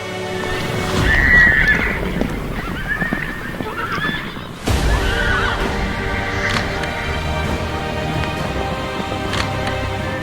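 A herd of horses with riders crosses a bridge at a slow pace outdoors. Continuous hoof clatter runs beneath repeated whinnies and neighs, with one sharp knock partway through.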